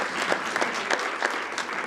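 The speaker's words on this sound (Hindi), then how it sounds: "तो हमें तालियां भी बजानी चाहिए।" Audience applause at a World Contraception Day event in Lahore, dense rapid clapping from a seated crowd, steady and fairly loud, with no voices over it.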